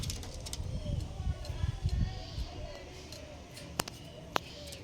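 Pigeons coo in low, throaty repeated calls close by in a loft, with soft rustling and a couple of sharp clicks toward the end; faint voices in the background.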